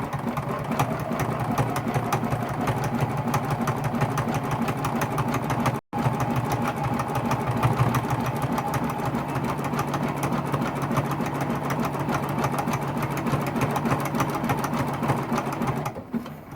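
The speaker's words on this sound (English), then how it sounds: "And then we're just going to do a zigzag stitch in both directions." Sewing machine running a zigzag stitch across a quilt, a loud continuous whirring drone with rapid needle pulsing, briefly cutting out once before resuming.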